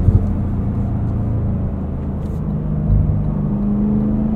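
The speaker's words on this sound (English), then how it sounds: "Do some of these downshift blips ourselves." The V8 engine of a Cadillac CT5-V Blackwing rumbles deep and loud from inside the cabin, with a throttle blip swelling the roar near the end as the car downshifts.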